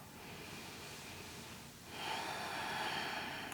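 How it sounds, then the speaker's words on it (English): Long, deep breath drawn in through the nose during a yoga practice, a faint, soft airy rush that swells midway and holds, close and quiet. "long deep breath in through the nose"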